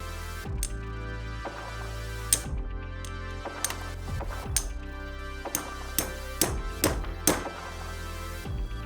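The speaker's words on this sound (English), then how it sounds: "Sorry for all the hammering." Repeated hammer strikes on metal ring out at irregular intervals, sharp and fairly close, with brief pauses between blows.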